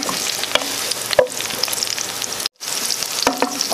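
Sliced or diced onion fries in oil in a pan, a dense, steady crackling sizzle with a few stirring clicks and one brief break near the end.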